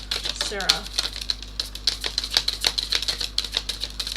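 Tarot cards riffled in a shuffle, giving a rapid run of crisp papery clicks and flutters close up, with someone speaking briefly over them.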